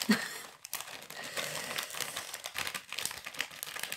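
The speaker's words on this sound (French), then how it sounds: "Oh, j'ai déchiqueté le papier, c'est ça." Close, crackly rustling of paper packing from a scrapbooking parcel being torn and crumpled in uneven bursts over a few seconds.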